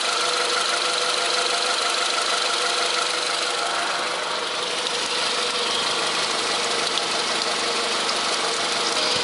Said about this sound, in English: Continue to let the engine run until nothing but clear water comes out of the drain valve